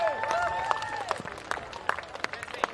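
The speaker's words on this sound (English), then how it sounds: "Big round of applause for Corey Baker." A crowd applauds runner Corey Baker at the 139th Bay Sheffield footrace, with scattered sharp claps building toward the end while an announcer talks over the top.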